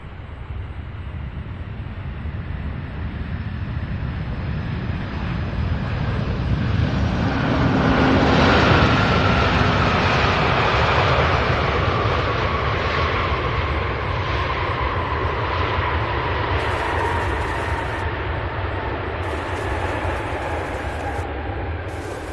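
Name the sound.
airplane landing at Louisville airport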